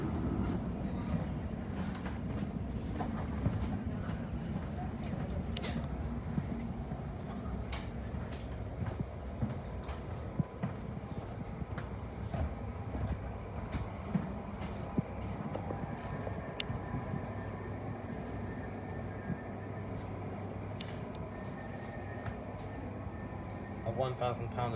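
A TfL Rail train slows into Heathrow Terminal 5 at the end of the line, a steady rumbling carriage drone with occasional clicks and clanks, heard from inside the train as someone walks along it.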